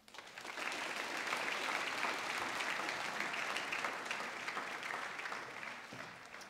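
A school leadership ceremony audience gives a round of applause for two students, May and Charlie Summerfield, steady, fairly distant clapping from a crowd that holds throughout and eases slightly toward the end.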